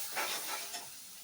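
Misal mixture sizzles steadily in a hot oiled pan while a spoon scrapes and stirs it, giving a continuous close hiss with a few soft swells of scraping and no voices.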